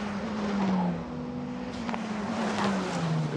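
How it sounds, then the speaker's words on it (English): Formula Regional race cars pass on track during qualifying at Le Castellet, their engines droning and shifting in pitch as they sweep by at a moderate distance, one after another. "we see the cars make their way through"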